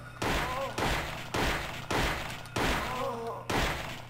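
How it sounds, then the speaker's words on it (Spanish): Six sharp gunshots fired in Silent Hill on PlayStation ring out at a steady, spaced rhythm, each a hard booming crack with a short decaying tail, over a low steady hum. "Son un montón de disparos."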